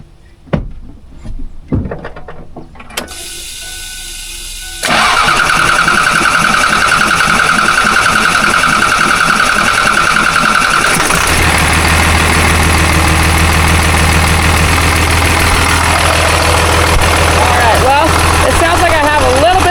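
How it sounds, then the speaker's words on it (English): A 12-valve Cummins diesel engine cranks after a few clunks, catches, and settles into a loud, steady idle with a rough, hissing edge from a turbo exhaust leak that continues to the end. "Exhaust leak, probably because I reused my gasket on the turbo"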